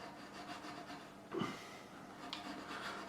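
A nut file rasps back and forth in a slot of a non-bone nut on a Squier Classic Vibe Telecaster, producing faint, steady, close rubbing strokes with one brief louder scrape.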